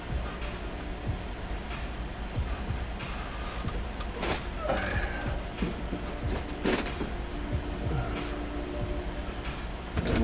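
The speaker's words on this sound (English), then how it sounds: "we'll go ahead and put the side panel back on" A metal side panel is slid and fitted back onto a shop PC case, giving scraping slides and several knocks and clicks over a steady background hum.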